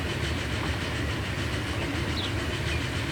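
A passenger train in Transport Fever 2 rolls steadily along the line, a continuous rumbling run with a faint rhythmic clatter of wheels, heard alone.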